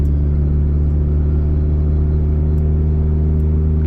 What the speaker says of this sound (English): this car just, it sounds so good for being only a 4-cylinder